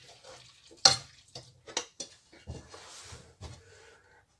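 Mac and cheese being stirred together with summer sausage, soft wet squelches and a few spoon taps against the pot in irregular bursts, close but fairly quiet.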